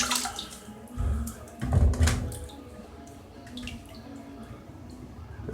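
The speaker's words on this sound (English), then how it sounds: "throw it in here, slosh it around a little bit, pull it back out, and you just kind of wring it out a little bit." A used filter is sloshed around in a sink of water, then pulled out and wrung, giving splashy bursts of water near the mic with dripping and trickling between, no talk.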